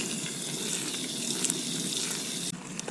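A small amount of water poured into tile mortar mix, a steady close hiss of pouring liquid that stops abruptly, leaving a few faint drips and clicks; no one talks.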